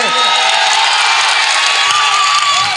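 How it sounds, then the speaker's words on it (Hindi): A large crowd at a political rally claps and cheers continuously, a dense loud wash of applause with whoops and shouts throughout. "एक एक आदमी की तालियों का शोर पटना तक जाना चाहिए, दिल्ली तक जाना चाहिए"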